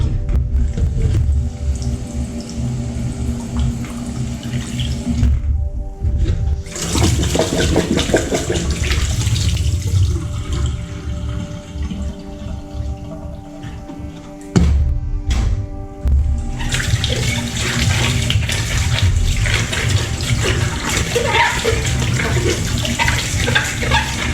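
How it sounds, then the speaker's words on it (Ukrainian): Cold water pours steadily into a jar of pickling cucumbers, loud and close, pausing briefly a couple of times before resuming with a gushing, filling sound. "Заливаємо холодною водою."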